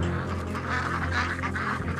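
A crowded flock of nearly a hundred kept birds, heard as geese and ducks, honks and quacks in a dense, overlapping chorus, close and continuous.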